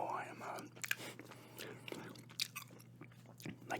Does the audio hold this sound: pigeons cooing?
no